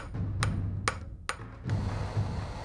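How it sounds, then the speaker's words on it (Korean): A hammer pounds a lump of silver into a long rod for a handmade traditional silver ring, about four sharp metallic strikes in a slow, uneven rhythm over a low background hum. "은가락질을 만들기 위해 은 덩어리를 망치로 두들겨 우선 긴 막대를 만들어야 한다."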